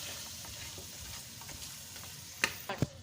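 Peas frying in a pan for aloo matar, a soft steady sizzle with light stirring scrapes and a few sharper utensil knocks near the end.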